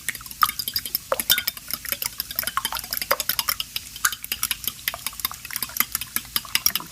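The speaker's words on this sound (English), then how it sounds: "I just use a fork to beat the eggs" A fork beats eggs in a bowl, making quick, rhythmic clicking taps against the side that carry on steadily and close by, with no talking.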